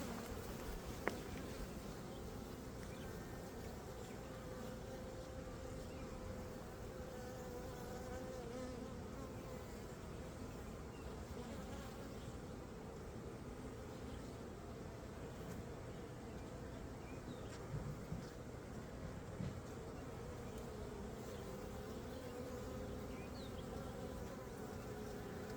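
Bees swarming around a crowded beehive make a dense, steady buzzing hum that fills the whole stretch, with faint occasional taps and no talking.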